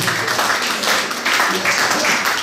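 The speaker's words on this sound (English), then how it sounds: "you've got to give him a clap" An audience claps during an interview, a steady wash of applause heard close and continuous for a couple of seconds.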